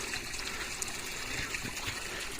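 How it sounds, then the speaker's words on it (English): Spring water from underground steadily trickles and pours into an outdoor swimming pool at a hill-country estate hotel, a continuous soft, even wash of flowing water with no voices. "Water in the background."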